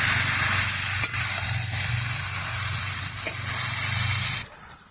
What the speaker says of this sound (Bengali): মাছগুলো দিয়ে দিচ্ছি, মাছগুলো ভালো করে নেড়ে ঢাকা লাগিয়ে দেবো।